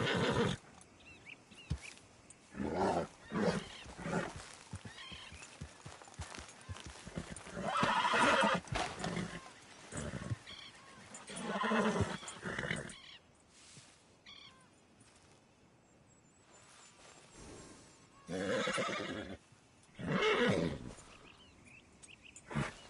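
A horse in the video game Red Dead Redemption 2 gallops with rhythmic hoof clops and lets out neighs and whinnies, the sounds rising and falling over a long stretch with game ambience.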